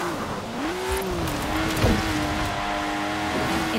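A Lotus sports car driven in Forza Horizon 4 produces a continuous engine tone that rises and dips with throttle, with a brief thump and a faint tire squeal partway through, and no voices.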